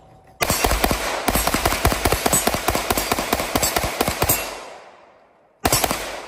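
A Canik pistol fired rapidly at a shooting range: a fast, sharp, evenly spaced string of loud, close shots lasting about four seconds, then a single further shot after a pause.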